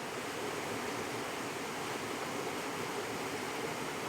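Steady rushing water from the waterfall at the Falls of Monzie, a constant broadband roar without any break, moderately loud and heard alone.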